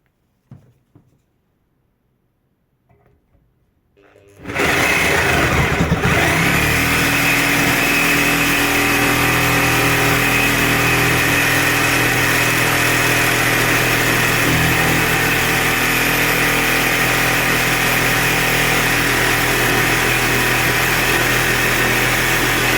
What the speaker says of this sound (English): The tool is set on speed 6, and I'll be using Bosch carbide knife for heavy metal.